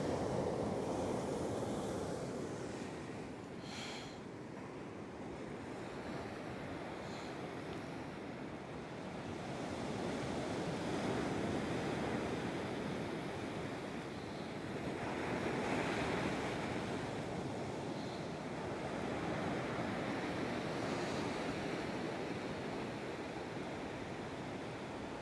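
Ocean waves wash in continuously, a broad, steady roar of surf swelling and receding every few seconds with some wind, no voices.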